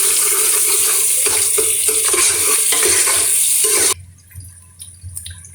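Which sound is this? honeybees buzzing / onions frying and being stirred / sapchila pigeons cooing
onions frying and being stirred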